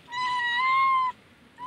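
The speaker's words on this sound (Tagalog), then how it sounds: "Ayan po mga pusa." A cat lets out a single clear, fairly loud meow lasting about a second, close by, with a faint start of another call right after; the cat is among strays being fed bread.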